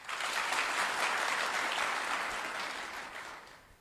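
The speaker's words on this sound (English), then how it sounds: "Let us give her another applause." Sustained crowd applause at a Kenyan government homecoming ceremony for National Police Service officers back from a Haiti mission, loud and dense at first, then slowly thinning out toward the end.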